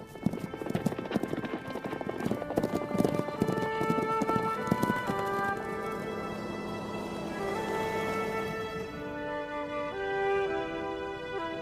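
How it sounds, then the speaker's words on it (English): Horses run in a herd on a long-distance course, hooves drumming in a dense, rapid clatter that later fades under sustained music. "Herd instinct alone will keep a horse going, even one that lacks the fitness and conditioning required for a long-distance run."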